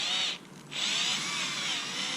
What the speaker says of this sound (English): I don't think anyone's tried to drill through a bottom bracket before